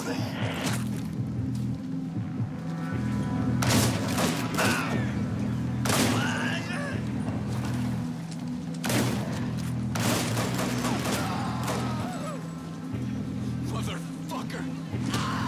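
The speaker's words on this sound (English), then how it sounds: "Gunshots were in the front of the building." Gunfire in the video game Hatred: repeated bursts of shots cracking out at irregular intervals over a low rumbling background, fairly close and loud.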